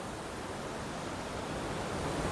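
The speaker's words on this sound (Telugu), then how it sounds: "ఆ పైనుంచే పడుతూ ఉంది వాటర్" Water from the Gosthani river falls from above inside a cave, making a steady broadband roar with no breaks, like a distant cascade, and nobody speaks.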